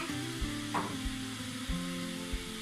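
Coffee heating in a small pot gives a soft, steady hiss with faint bubbling and a few light taps in the background.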